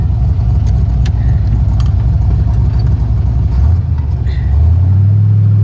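A Corvette fitted with a Tremec 5-speed conversion drives on a humid day, its engine giving a steady, loud low rumble that drops and then rises again as the gear changes near the end.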